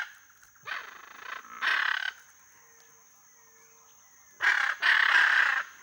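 Wild macaws calling in the Amazon near acuri palms: harsh, raspy squawks come in two pairs separated by a quiet gap, fairly close, over a steady thin insect-like whine.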